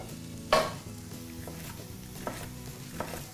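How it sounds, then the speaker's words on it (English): Ginger and garlic sizzling in a hot pan, a gentle continuous fry broken by a sharp utensil clink and a few softer stirring scrapes. "Good sizzle. Lovely gentle sizzle."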